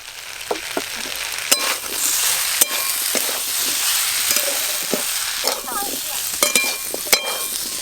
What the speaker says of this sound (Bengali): গুঁড়ো মশলা দিয়ে আলুর সঙ্গে একটু ভালো করে কষা কষা করে নিয়েছি